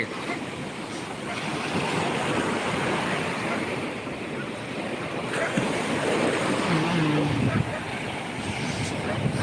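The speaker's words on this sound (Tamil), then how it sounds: "மகாபலிபுரம் கடல்" Sea waves roll and wash continuously onto the shore at Mahabalipuram beach, a steady loud surf roar mixed with gusting wind buffeting the microphone throughout.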